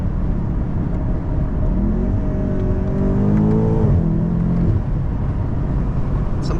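BMW M8 Competition drifting through a turn, its engine revving and surging with pitch sweeps between gear shifts, loud and close with steady road and tyre noise underneath.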